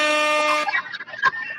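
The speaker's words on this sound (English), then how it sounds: "And you get the air horns, my brother." An air horn sound effect blares in one short, bright, tonal blast lasting about half a second, followed by a jumble of fainter scattered sounds.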